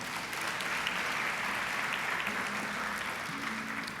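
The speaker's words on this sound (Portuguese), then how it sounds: "Aplauda Jesus mais uma vez" A church congregation applauds at the close of a prayer during a Portuguese-language sermon, giving a steady, even wash of many hands clapping at a constant level, with no voices standing out.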